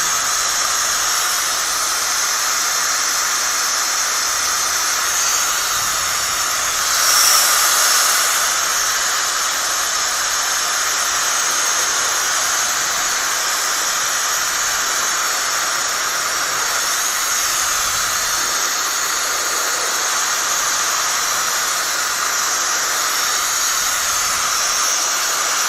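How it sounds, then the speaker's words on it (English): A small 3D-printed mini vacuum cleaner and airbrush runs steadily with a continuous airy hiss and whine, close and fairly loud, holding an even level throughout with a brief surge partway. "It's actually a little mini vacuum cleaner slash airbrush."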